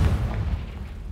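A Confringo fire spell from the video game Hogwarts Legacy goes off as a short, deep booming blast that rumbles low and fades quickly, fairly loud with no speech over it.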